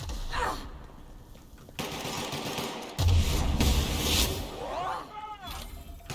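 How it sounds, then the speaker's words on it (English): Gunfire in The Outer Worlds video game: several bursts of shots and impacts over a busy game soundscape, moderately loud, with players talking over the action. "What are you guys shooting at?"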